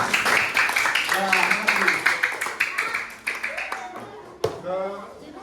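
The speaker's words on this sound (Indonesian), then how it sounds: "tepuk tangan untuk kelompok Garuda." Students in a classroom clap for a presenting group called Garuda, a run of sharp, fairly close hand claps with voices and chatter mixed in throughout.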